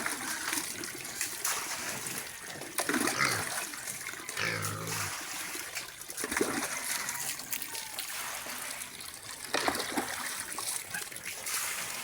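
Water is poured and splashes into a container for pigs on a farm, an uneven trickling and splattering that rises and falls over several seconds.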